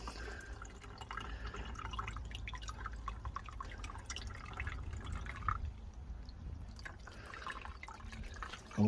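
Water poured over a seed tray of ranunculus, with steady trickling and dripping at close range throughout, no one speaking.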